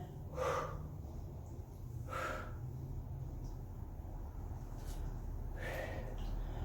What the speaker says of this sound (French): On monte, on descend, on souffle, on inspire.